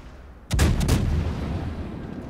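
Warship artillery fires in the World of Warships naval battle game, the French cruiser De Grasse loosing a salvo: a sharp double blast of heavy gunfire followed by a long rumbling roar that fades slowly.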